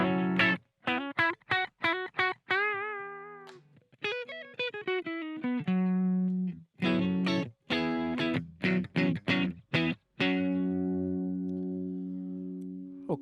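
Electric guitar through a Boss GT-100 multi-effects unit on a Deluxe Crunch patch, playing a series of short chopped chords and single notes with mild overdrive, clear and isolated, ending on a sustained ringing chord.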